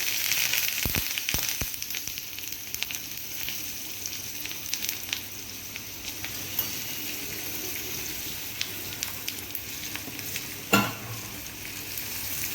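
Curry leaves crackle and hiss in hot tempering oil with mustard, cumin and green chillies for moong dal dhokla. The sizzle is close and continuous, with sharp spits, a louder burst near the end and no talk.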